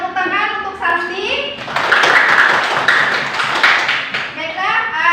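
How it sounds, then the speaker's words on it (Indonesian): A classroom of children claps for a student named Santi, a burst of dense, steady applause lasting a few seconds, with a voice and children's speech around it before and after. "Ya, tepuk tangan untuk Santi."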